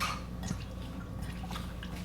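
Salted, rinsed vegetables are squeezed by hand in a kitchen, and water drips and trickles from them in a few soft, close splashes over a low background hum.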